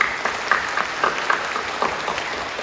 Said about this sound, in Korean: 박수로 격려해 주십시오.